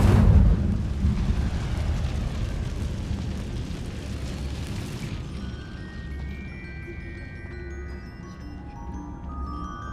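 An Incendio fire spell cast in Hogwarts Legacy bursts with a loud whooshing blast at the start, then roars and crackles, fading over several seconds into a quieter tail with faint tinkling tones.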